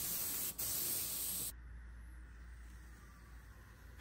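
A big air compressor set up for spray finishing a 1960s dresser gives a loud, steady hissing rush for about a second and a half, then cuts to a quiet low hum and faint background hiss.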